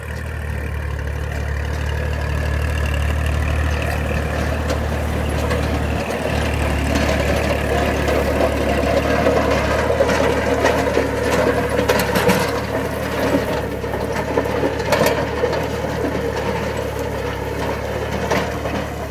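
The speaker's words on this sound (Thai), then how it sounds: "ด้านหลังของรถไถก็จะเป็นโรตารี่นะครับ ปั่นดิน ปั่นเพื่อให้กลบนะครับกลบอ้อย" A tractor engine drones continuously up close while a rear rotary tiller churns and rattles through soil in a large sugarcane field, burying cane, with scattered clicking and clattering throughout.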